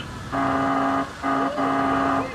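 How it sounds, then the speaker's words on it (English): Two loud, sustained fire truck air horn blasts with a brief gap between them, a deep brassy honk sounding alone. "It's called an air horn,"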